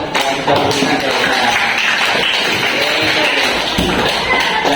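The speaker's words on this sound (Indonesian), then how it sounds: "Tepuk tangan untuk" Schoolchildren in a classroom clap together in a loud, dense burst of applause that carries steadily throughout, with voices mixed in among the claps.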